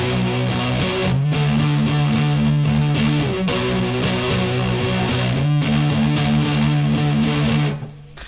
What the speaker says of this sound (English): If you do that part with the distortion, it sounds a lot different just because it's heavier